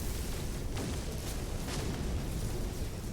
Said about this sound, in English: it looks like there's one more enemy because these turrets are firing